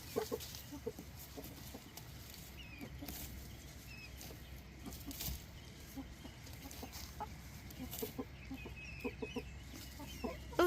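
Backyard chickens cluck and murmur inside a coop, a steady layered chorus of soft calls with occasional louder squawks, moderately distant and continuous.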